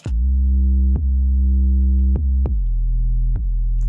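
A soloed 808 bass in a music mix booms with loud, sustained low notes, each starting with a sharp click and pitch drop, sounding several times in a row with no other instruments.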